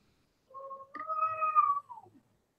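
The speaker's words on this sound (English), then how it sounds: "What you hear, it's the male cats fighting." Male cats fighting outdoors, heard as a long, drawn-out yowling caterwaul that rises and wavers for under two seconds, moderately loud and with no talk over it.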